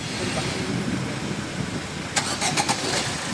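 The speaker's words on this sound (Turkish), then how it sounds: "Şikayeti gaz verdikten sonra gazı bıraktıktan sonra kuf kuf sesi yapması." A Fiat 1.3 Multijet Euro5 diesel engine runs steadily, with a few brief puffing pulses from the engine after the throttle is released.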